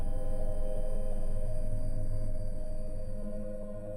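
Steady layered electronic tones hum continuously in a binaural listening exercise of the Gateway-process kind, sustained pitches droning evenly without pause and fading slightly toward the end.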